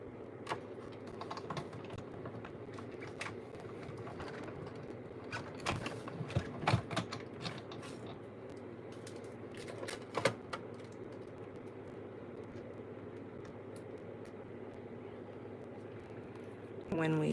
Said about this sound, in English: cut that out in our machine, Stampin' Cut and Emboss machine.